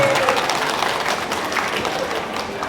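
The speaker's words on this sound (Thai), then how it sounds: "ผู้ว่ารา ชการจังหวัดมุกดาหารท่านวรยามบุญรักษ์ขอเสียงปรบมือต้อนรับท่าน ด้วยนะครับ" Dense, steady applause from a crowd welcoming the provincial governor at a Mukdahan Pride Festival press event, a brief close burst of many hands clapping at an even level.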